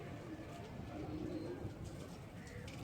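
A pigeon coos softly in low, rounded bursts, fairly quiet against a steady background hum, with someone talking now and then.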